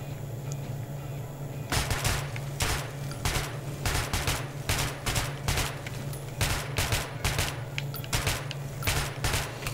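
AK rifle fire at a firing range in Metro 2033 Redux, loud rapid bursts and single cracks repeating steadily over a constant low mechanical hum, with no talk.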